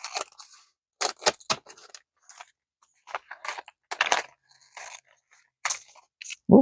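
Scissors trim a large popcorn bag with irregular crisp snips and crinkly plastic crunches, close and sparse with quiet gaps, with no talking.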